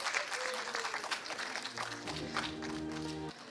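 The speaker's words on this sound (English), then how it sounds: "A round of applause to all our participants" A crowd applauds with dense clapping throughout, while a soft musical tone swells in toward the end.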